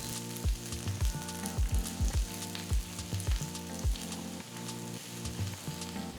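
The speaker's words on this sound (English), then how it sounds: "Heat 2 tablespoons of oil in a pan, add 2 chopped onions, 10 cloves of garlic and a small piece of tamarind. Saute until the onions turn translucent." Chopped onions, garlic cloves and a small piece of tamarind sizzle steadily in hot oil in a pan, with repeated sharp scraping stirs cutting through the frying hiss.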